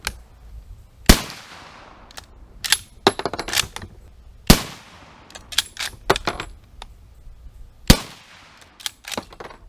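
A Canadian Long Branch Lee Enfield rifle fires several sharp, loud shots spaced a few seconds apart outdoors, with metallic clicks and clatter of the action between them.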